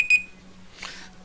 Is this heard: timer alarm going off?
yes